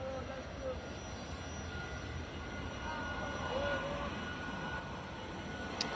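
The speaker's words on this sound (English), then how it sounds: "Okay, it's rolling down the runway." A Boeing 737 airliner rolls down the runway for takeoff with a steady, distant engine roar and rumble. A voice can be heard faintly in the background.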